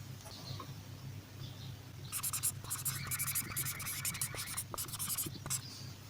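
Marker or pen writing on a board during a maths lesson on number properties, a run of scratchy strokes lasting a few seconds over a steady low room hum.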